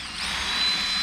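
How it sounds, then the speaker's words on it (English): Power drill boring a hole through a Jeep Wrangler TJ dash switch panel, a steady close whine that holds for the full second with no voices. "Now we'll drill us a hole there."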